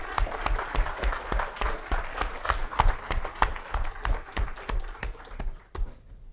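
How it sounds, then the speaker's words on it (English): An audience at a memorial lecture gives sustained applause, many hands clapping in a hall with sharp individual claps standing out, the sound tapering off at the end. "I'd like to have our acknowledgement and applause once more"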